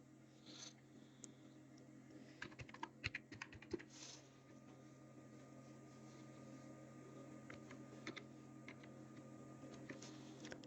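Scattered keystrokes on a computer keyboard as a password is typed at a sign-in page, with quick clusters of clicks over a quiet background hum, faint and close.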